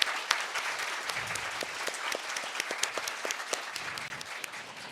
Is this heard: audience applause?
yes